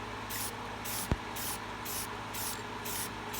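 Lacquer sealer sprayed from a can over a piece to seal colors and fibers, a steady close hiss pulsing in short regular bursts, with one brief sharp click partway through and no talk.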